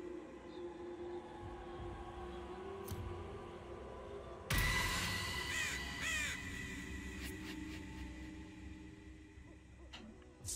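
A flock of crows in South Park: The Fractured But Whole video game, a low steady ambient rumble broken midway by an abrupt, loud flurry of repeated caws that slowly settles back down.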